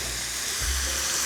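Mushrooms and oregano frying in a pan give a steady bright sizzle, with a soft scrape of stirring partway through, close and continuous.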